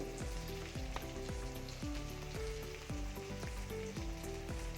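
Spices for chicken curry fry in a pan, coriander powder, green chillies, garam masala, bay leaf, chilli, turmeric and cumin powder, giving a dense continuous sizzle with rhythmic scraping strokes of a spatula, close and steady, no voices.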